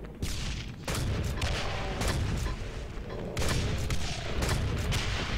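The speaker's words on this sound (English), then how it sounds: "The grenade launcher will work better." A grenade launcher fires in a video game, sending a series of loud booming blasts in quick, uneven succession with crackling bursts between them, close and continuous throughout.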